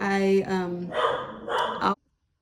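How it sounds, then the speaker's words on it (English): A dog barks indoors in a short burst of yips and woofs, loud and close, then stops abruptly into silence. "Dog started barking"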